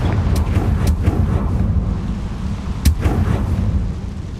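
A Confringo spell blast in Hogwarts Legacy, a loud, dense rumble punctuated by sharp cracking hits, one standing out midway through.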